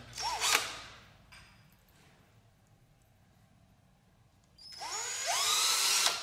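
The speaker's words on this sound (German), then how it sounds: "So reibt man die Düse auf." A power drill reams out a carburetor jet nozzle on a cafe racer motorcycle in a workshop, a short whining burst, a quiet pause, then a longer sustained high-pitched drilling whine close up.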